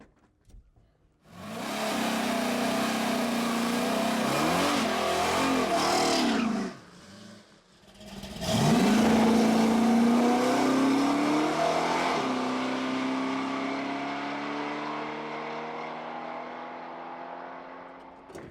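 Bel Air bracket race car launching and accelerating hard down an eighth-mile drag strip, a loud engine roar that drops briefly mid-run as it shifts gears, then climbs again and fades steadily as the car pulls away.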